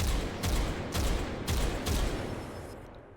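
A gun in the VR shooting game H3VR fires in full-auto, four short rapid bursts of shots spaced about half a second apart, fairly close, followed by fading echo.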